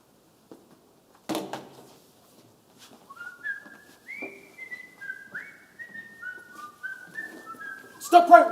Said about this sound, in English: Put your hands up and stop whistling.